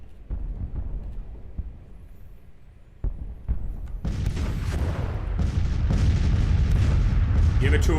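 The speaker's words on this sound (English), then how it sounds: "just trading cannon shots at this point" Civil War cannon artillery booms in Grand Tactician: The Civil War, with several separate heavy shots early on and then a dense, rising rumble of continuous fire and battle noise.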